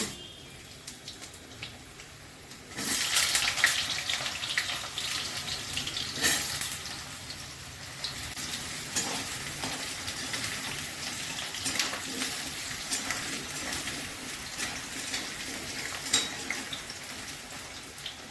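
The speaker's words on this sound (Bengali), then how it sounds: "তেল গরম হয়ে গেছে, জিরে তেজপাতা ফোড়ন করলাম, আলুগুলো ভেজে নিচ্ছি।" Potatoes fry in hot oil with cumin and bay leaf, a broad hissing sizzle that swells sharply after a quieter start, then holds steady with occasional spatters and light pan clatter.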